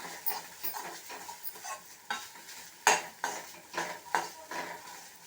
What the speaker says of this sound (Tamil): இப்போ தேங்காய் துருவினதை இதில் நெய்யோடு சேர்த்து நல்லா வறுத்துருங்க.